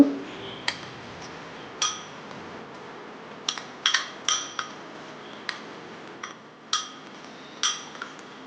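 A spoon stirs orange chaat with organic sugar and lemon juice in a bowl, giving a dozen or so sharp, irregular clinks and taps against the dish over a quiet background, fairly close and with no talking.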